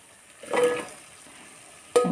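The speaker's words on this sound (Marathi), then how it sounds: "तर आता आपल्याला घालायचे आहेत आलू" Boiled potatoes dropped into simmering dum aloo gravy in a pan, giving two short sizzling splashes about a second and a half apart, close and fairly quiet.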